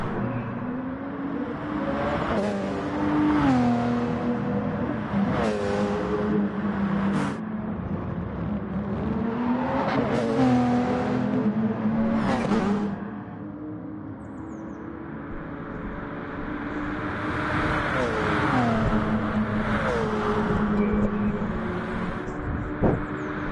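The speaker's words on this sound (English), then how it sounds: "I'm watching a replay of a Le Mans race." Race cars in a Gran Turismo Sport Le Mans race replay roar past one after another, their engine notes climbing and dropping in pitch as each car sweeps by, with steady loud engine drone between the passes.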